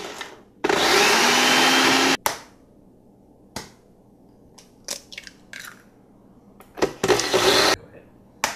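Electric mixer beating eggs into buttermilk pound cake batter, one steady loud whirring burst up close, followed by scattered clatters and knocks of the bowl and utensils.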